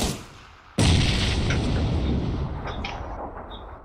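A sudden loud blast of gunfire erupts in a multiplayer shooter game, a sharp burst followed by a rumbling, fading roar with a few trailing pops.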